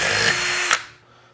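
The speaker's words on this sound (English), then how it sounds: "Now we're going to drill the hole for the SO239. So I'm going to start by doing a pilot hole." Power drill bores a pilot hole for an SO239 connector while building a 10 meter dipole antenna, one short steady whir that spins down and stops.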